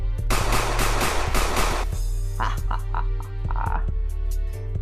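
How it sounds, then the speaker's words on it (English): Rapid bursts of gunfire as a sound effect in a comedic show, sharp repeated shots in quick clusters, loud and close, with a voice talking faintly beneath. "Matt seemed to reach into his pocket and retrieve a hail of gunfire."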